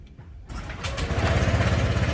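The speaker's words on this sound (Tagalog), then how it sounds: "start natin yung motor natin." A motorcycle engine starts after a quiet moment and settles into a steady, rough, close idle with a vibrating hum. The bike has been left switched off for a long time and has a dragging problem.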